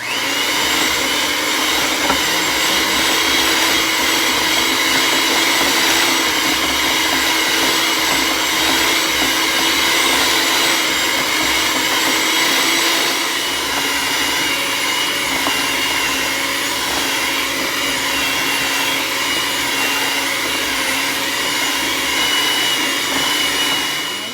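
Electric mixer creaming butter and sugar for homemade oatmeal cream pies, a steady motor whir with a constant tonal hum running unbroken for the whole stretch, no talking.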